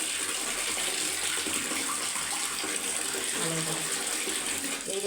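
Water runs steadily from a tap loosened to let more flow, a continuous broadband rush close by with no break across the whole stretch.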